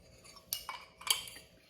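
Thick lemon crinkle cookie dough, loosened with a tablespoon of lemon juice, is worked in a bowl, giving two short scraping clinks of utensil against the bowl, fairly close and quiet.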